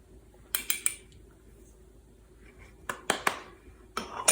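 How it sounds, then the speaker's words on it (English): A whisk scrapes and clinks against a bowl while mixing instant dry yeast and kosher salt, in short bursts of metallic rattling separated by quiet gaps. "And we have to whisk this together."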